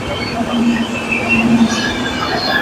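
The Jammu Tawi Express pulls out of Gujhandi station with a steady rumble and a drawn-out wheel squeal, heard continuously from on board with a faint voice underneath.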